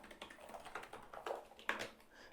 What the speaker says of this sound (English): the clicks are just not so loud, but I think I really love the clicks